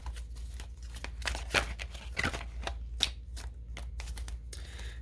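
Cards being shuffled: quiet papery riffles and soft slaps in uneven bursts, close but low in level, over faint background hum.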